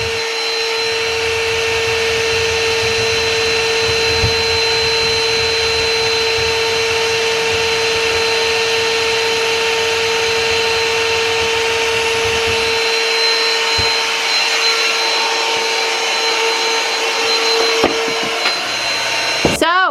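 A vacuum cleaner held up to catch sheetrock dust during home renovation work, a loud steady whine with a strong droning tone running throughout, joined by low rumbling from the cutting work that drops out partway through.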